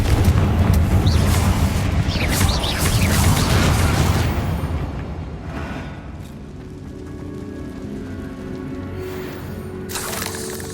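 Spell explosions from Bombarda and Confringo in Hogwarts Legacy on PS5, a loud dense booming blast that rumbles for several seconds, then fades into a lower, quieter roar with a short burst near the end.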